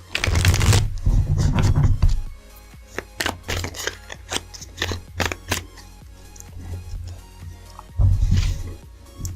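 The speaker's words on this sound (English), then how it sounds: "One more shuffle. I know I already shuffled this deck." A tarot card deck is shuffled by hand, loud riffling bursts at the start and end with a run of sharp card taps and flicks in between, close and alone.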